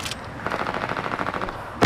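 A weapon in Fortnite fires a rapid burst of about a dozen evenly spaced gunshots, close and punchy, with a louder blast at the very end.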